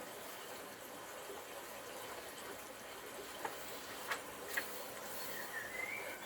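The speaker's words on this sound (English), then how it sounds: "We had rain, so the creek is up high again and it's loud." Rain-swollen creek running high after rainfall, a steady broadband rushing wash heard alone and fairly near, with a few faint brief clicks and a short high whistle-like tone near the end.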